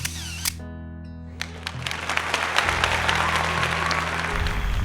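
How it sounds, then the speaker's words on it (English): A camera shutter is released to begin a long exposure of the Milky Way at night, a sharp mechanical click followed by a few seconds of steady hiss and hum. "now all that's left is to press the shutter"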